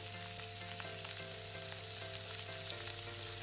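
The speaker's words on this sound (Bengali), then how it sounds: "এবার আমি এটাকে হালকা করে একটু ভেজে নেব" Onion and capsicum lightly frying in oil, a faint steady sizzle with a low background hum, continuous and unbroken.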